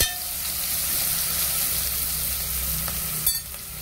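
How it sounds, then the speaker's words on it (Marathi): Okra and carrot frying in a pan, a steady close sizzle with a quick clatter of stirring near the end and no speech. "हे बघा मस्त भाजून घेते ह्याला लाल होऊस्तर।"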